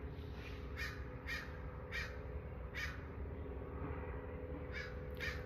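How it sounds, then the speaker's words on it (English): Crow cawing outdoors in short repeated calls, about seven spaced caws with a pause in the middle, moderately near over a steady low background hum. "the crow is like singing instead of yelling"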